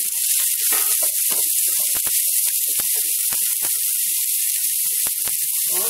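Onion sizzles in a hot pan, a steady bright hiss with scattered pops and crackles running throughout, close and fairly loud, with no talking.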